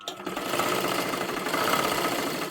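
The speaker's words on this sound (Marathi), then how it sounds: "इथे परत एकदा त्याच्यावरतीच आपल्याला शिलाई मारून घ्यायची आहे" A sewing machine stitches tucks into a blouse, running continuously with a fast, even mechanical chatter close by, with no talking.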